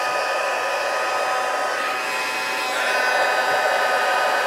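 Heat tool warming vellum for hot foil card making, a loud steady blowing whoosh like a hair dryer held close, continuous without pause, no voices.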